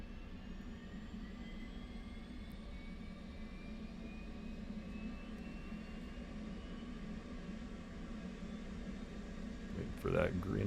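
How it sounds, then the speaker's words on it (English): An F/A-18C Hornet APU in DCS World spinning up as a steady low whine and hum with slowly rising tones, heard continuously and fairly close inside the cockpit, with a brief clunk near the end. "we'll fire up that APU"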